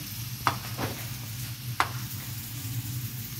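Onion and tomato sautéing in a pan: a steady low sizzle with two sharp utensil clinks against the pan and a soft scrape between them, quiet and close, no talk.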